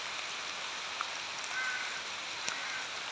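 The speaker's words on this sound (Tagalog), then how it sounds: "Oh, buhos na uli ang ulan." Steady heavy rain pours down in a continuous broad hiss, with a couple of faint distant bird calls breaking through.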